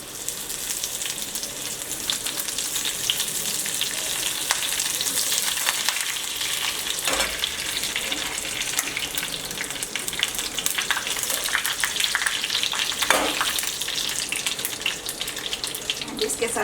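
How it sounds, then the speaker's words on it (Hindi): Curry leaves crackle and sizzle in hot oil with cumin, a steady, fairly loud frying hiss running throughout with small bursts of spatter and no talk over it. "तो मैं डाल दे रही हूँ करी लीव्स।"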